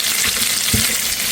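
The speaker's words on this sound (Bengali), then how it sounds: "তেল একটু বেশি নিয়েছি, এই তেলেই বেগুনটা কোরমা করে নেব।" Eggplant fries in a generous amount of hot oil for korma, with a loud, steady sizzle and a brief soft stirring bump partway through.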